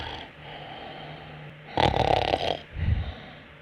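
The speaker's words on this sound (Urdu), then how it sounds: "پیارے خراٹے۔" A man snoring loudly as a comic bit on an Urdu stage show, two heavy rasping snore bursts close to the microphone after a quiet start, with no talking over them.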